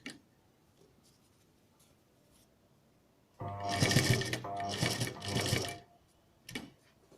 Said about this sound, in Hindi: नेक के बराबर किनारे से ये पाइपिंग लगाकर उसके ऊपर में सिलाई लगा रही हूँ।